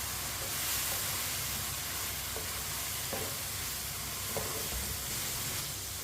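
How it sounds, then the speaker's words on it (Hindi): Moong dal sizzling in a pan as a spoon stirs it, a steady close frying hiss with faint scraping strokes of the spoon now and then, no talk. "अब 1 मिनट के लिए पका लेते हैं इसे चम्मच चलाते हुए"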